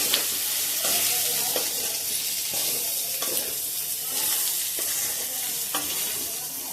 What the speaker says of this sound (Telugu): మళ్ళీ ఒకసారి కలుపుతున్నాను.